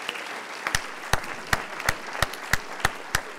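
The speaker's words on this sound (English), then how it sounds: "Could we get one more round of applause for our two speakers?" Audience applause for two speakers after a talk, a sparse round of separate claps in a loose steady rhythm, fairly faint and distant.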